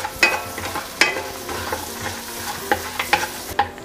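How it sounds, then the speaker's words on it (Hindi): Whole cumin and spices crackling in hot butter for a mutton malai, with sharp pops and sputters at irregular intervals over a steady frying hiss, some clinks of stirring, close and fairly loud, no talk. "साबुत मसाला मेरा चपटक गया"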